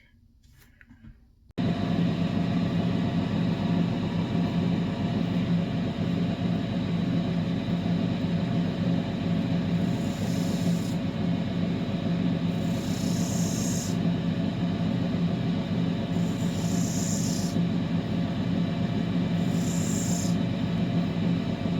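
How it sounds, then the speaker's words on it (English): A 600 grit lapidary wheel grinds a belemnite opal, with a steady humming machine drone that starts abruptly and holds, broken by several brief bursts of higher grinding noise as the stone touches the wheel. "I'm just working on the 600 wheel. And just following the naturally round shape of this belemnite."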